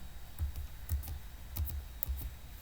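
Keys on a computer keyboard clatter in short bursts, several quick clusters of taps with brief pauses between them, close and fairly quiet, typing text into a title box during a Microsoft Word exam exercise.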